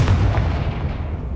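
A single deep, booming Confringo fire spell explosion in Hogwarts Legacy, loud and close, a heavy low blast that rolls off and fades over about a second.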